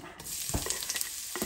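Ginger, onion and garlic sautéing in hot oil before Manila clams go in, a steady sizzle with a few stirring scrapes and clinks, close and alone.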